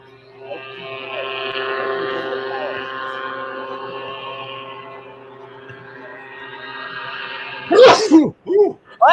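A sneeze bursts out near the end, followed by short sharp sounds, after a long steady droning hum with harmonic tones.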